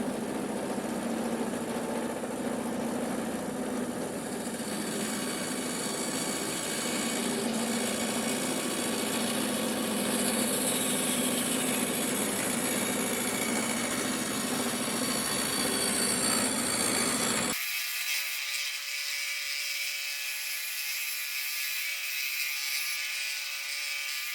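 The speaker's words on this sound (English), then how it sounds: "let's make the rough cuts at the bandsaw" A bandsaw makes rough cuts for a hamster bin cage, a loud, steady whining roar of blade and motor that holds for over seventeen seconds, then drops to a thinner high ringing as the cut ends.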